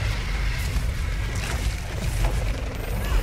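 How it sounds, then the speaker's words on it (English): Explosions in the video game Sundered: a continuous low rumbling barrage of booms with crackling bursts on top, steady and heavy throughout. "These explosions around me are not fun."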